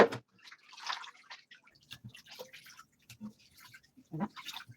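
Running water splashes in a kitchen during a quick wash while meatballs are prepared. Short, uneven bursts of splashing and trickling come close by, with gaps between them.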